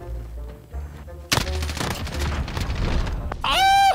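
Gunfire in Call of Duty: Modern Warfare, a sudden loud burst of rapid automatic fire that keeps rattling, then ends in a bright ringing, whooshing game effect.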